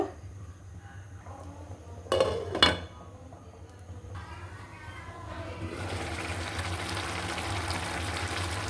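Lid placed over a pot of bhuna khichuri, two sharp metallic clanks in close succession, then a quieter steady simmering hiss with faint background hum.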